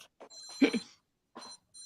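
Phone ringtone in a podcast setting: a quiet melodic ring with bright tonal chirps in short bursts, separated by brief gaps.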